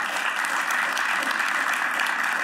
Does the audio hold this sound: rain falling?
no